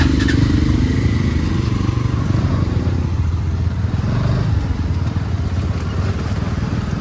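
Motorcycles on a Sunday group ride, a steady loud engine drone with low rumble and some clatter running unbroken throughout, close to the microphone, with no one talking.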